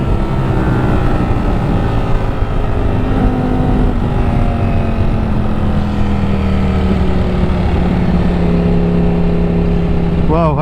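A Ducati Streetfighter V4S motorcycle accelerates hard, its engine note climbing through gears in a continuous loud roar with wind rush, recorded close from the rider's position over about ten seconds.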